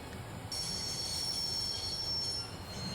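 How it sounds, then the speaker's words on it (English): A train in the video game Broken Sword grinds to a stop with a sustained, high metallic wheel screech over low rumbling, holding steady for a few seconds before fading. "I'd always wanted to stop a train, and now was my chance."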